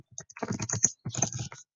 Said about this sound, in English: We backspace to the star, and then we start typing